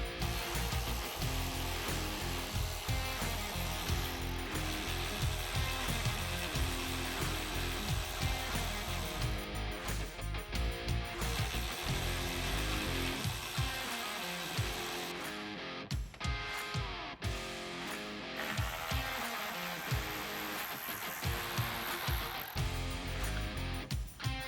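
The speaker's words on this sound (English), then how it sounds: "With our T40 Torx bit, we'll remove 4 more bolts holding on the upper hood panel" A T40 Torx bit on a power driver removes bolts from a vehicle's upper hood panel, making a loud, close whirring drive sound that stops and restarts in short bursts, with no talking.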